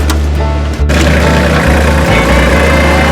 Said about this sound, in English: Once again, the little tractor comes in super duper handy.